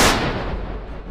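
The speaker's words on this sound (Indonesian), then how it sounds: "Suara tembakan terdengar, mengakhiri episode ini." A single loud gunshot sound effect in a Korean drama recap, with a sharp, close blast that fades into a rumbling tail for about a second and no talking.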